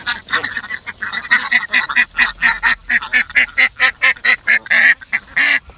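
A flock of ducks being herded through a rice paddy quacks in a rapid, steady series of loud, nasal calls, close by and overlapping throughout with no talk.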